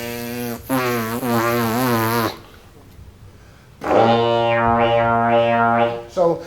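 A trombone imitates a didgeridoo, giving two long, buzzy, droning blows with a wavering throaty tone and a quiet pause between them, played up close with no talking.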